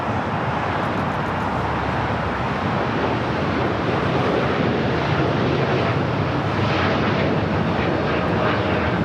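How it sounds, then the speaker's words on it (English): A Boeing Dreamliner jet on its takeoff roll on runway 25 right at LAX, a loud, steady, broadband engine roar that holds at the same level throughout, with no voices. "Dreamliner now rolling down at 25 right."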